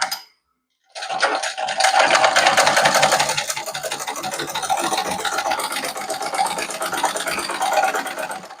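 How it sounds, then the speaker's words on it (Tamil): A sewing machine stitches along three folded sides of cloth while making a salwar kameez chip, running steadily and close after a short silent start, with a fast even whirring hum and no talk. "இந்த மூன்று பக்கமும் மடித்து தைச்சிருங்க"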